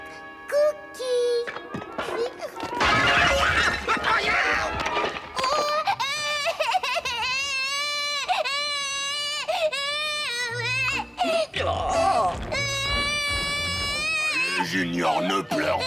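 A cartoon baby named Junior cries loudly in repeated, wavering wails and sobs, close up and sustained, with short gaps and thumps between the bursts.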